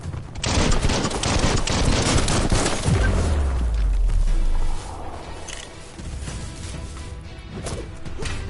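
Gunfire in the Biomutant action game: a loud, dense burst of rapid shots and crashing impacts rattles for several seconds, then drops to quieter scattered combat noise.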